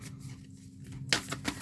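Soft, rapid riffling of a deck of tarot cards being shuffled close by, with a sharper flurry near the end; no talking.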